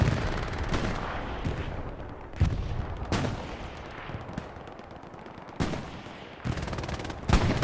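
Machine gun fire in an Axis-side multiplayer war game, with sharp bursts and single shots popping at irregular intervals over a low ongoing rumble of distant battle.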